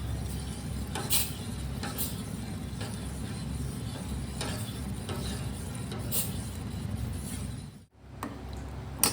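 Custard mixture stirred into milk in a pot, giving a faint continuous bubbling hiss with soft scraping strokes at irregular intervals, briefly dropping away near the end.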